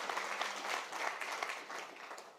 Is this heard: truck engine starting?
no